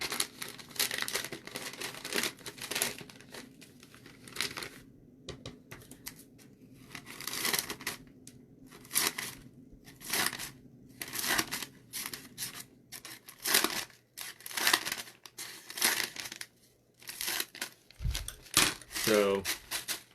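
Scissors cutting paper into fringe for DIY corn stalks, repeated crisp snips and rustling crinkles in uneven bursts, close and fairly loud, with paper handling noises between cuts.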